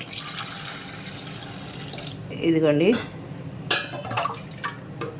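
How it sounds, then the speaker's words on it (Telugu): Water poured from a cup splashes and trickles into a pot, with a short gurgling pour in the middle, while someone speaks over it. "ఈ కప్పు తీసుకుని ఈ కప్పుతోటి మనం కొలతగా పోసుకుందాం నీళ్ళు."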